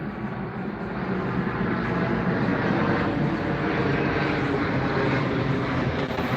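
A propeller airplane passes overhead outdoors, a loud, steady, broad engine drone that fills the whole clip with no talking.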